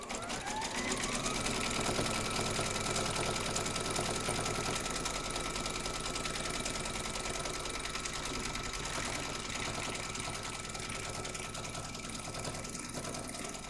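An embroidery machine stitches round nine of an Easter treat bag in the hoop, joining two segments along the bottom with a steady, fast, even mechanical chatter that carries on without a break and stays fairly quiet.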